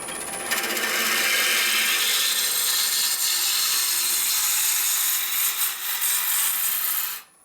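A lathe tool shears across a spinning maple burl bowl, a sustained bright, hissing cut that holds steady for several seconds before cutting off abruptly.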